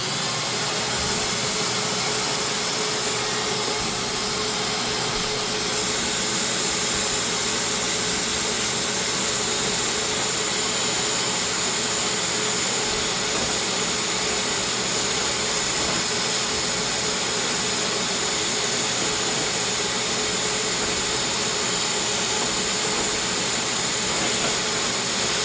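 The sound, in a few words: wet dry vacuum running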